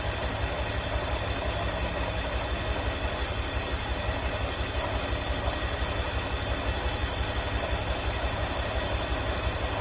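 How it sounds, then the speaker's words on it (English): A BMW E46 engine idles with a misfire, making a steady, loud mechanical drone with an even pulsing beat and a constant hiss, with no talk over it. "It just started misfiring."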